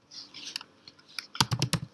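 A short burst of keystrokes on a computer keyboard as a command is typed, with a few light clicks first and then a quick, close run of sharper taps near the end.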